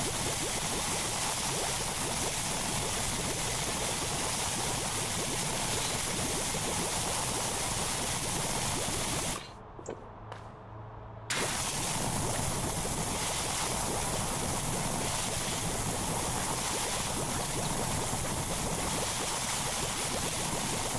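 Steady broadband spray of a pressure washer applying soap in Power Wash Simulator 2, a continuous loud hiss that cuts out briefly for about two seconds midway before resuming.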